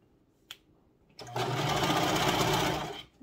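A serger sewing machine stitches elastic for a scrunchie. A single click comes first, then a loud, close, steady whirring hum runs for about two seconds before stopping.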